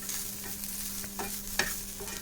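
Onion sizzles steadily as it fries in a pan with coconut, and a spatula gives occasional scrapes and taps while it is stirred.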